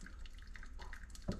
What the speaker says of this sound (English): wash your paper filter, kind of get rid of any of the leftover things that might make it taste like paper